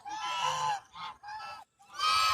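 Geese or ducks being petted in a park honk loudly and repeatedly in close, harsh bursts with brief pauses between calls.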